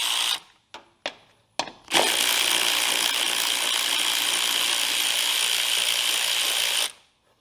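A small ratchet wrench backing out the screws of a John Deere LA100 mower deck cover: a few short clicks, then a sustained rapid ratcheting whir lasting about five seconds, close and clear, no voices.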